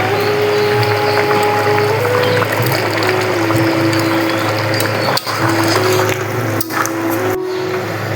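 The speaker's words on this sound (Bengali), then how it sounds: "তরকারিটা ফুটে উঠেছে" Cucumber and shrimp malai curry simmering in a pan, a steady close bubbling and hissing bed with a constant low hum running beneath it throughout.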